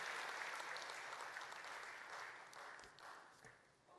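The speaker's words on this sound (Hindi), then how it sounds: "तालियों से स्वागत करिए हमारे प्रिय मुख्यमंत्री जी का।" Audience applause welcoming the Chief Minister of Madhya Pradesh at a public address on education, a dense sustained clapping that fills the hall and slowly thins toward the end.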